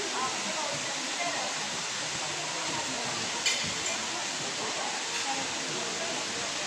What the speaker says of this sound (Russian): Пришли к водопаду.